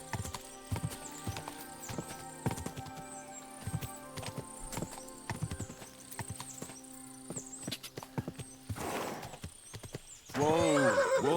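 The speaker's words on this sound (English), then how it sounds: "So I always turn around when I call the horse." Horse in Kingdom Come: Deliverance whinnying loudly near the end after a run of steady clip-clopping hooves, with ambient game sounds throughout.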